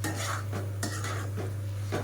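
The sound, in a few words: stirring coconut masala for tangra fish curry in pan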